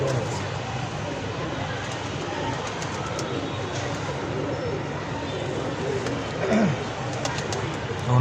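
Racing pigeons coo softly amid a busy, noisy background, with low murmuring calls rising now and then over a steady rumble.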